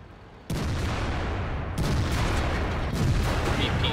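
An IS-7 heavy tank fires its cannon in World of Tanks, with a sudden loud blast that leads into sustained rumbling, followed by further booming impacts a little over a second apart.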